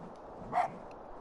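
A fox character in the video game Spirit of the North gives a single short, faint bark, one quick yip in a quiet background.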